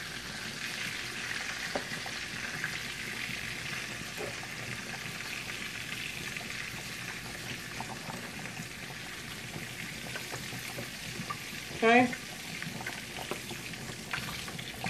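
Beef patties frying in a pan give a quiet, steady sizzle and crackle that runs continuously, with a short louder clatter near the end.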